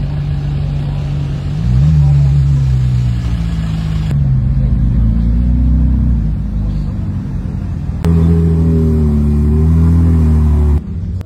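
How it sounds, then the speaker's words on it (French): McLaren Senna supercar pulling away at a Ferrari charity event on the Val de Vienne circuit, a loud close engine rumble rising in pitch through repeated revs and gear changes, then cutting off. "les voir s'en aller, comme cette Senna. C'est rare de les voir rouler"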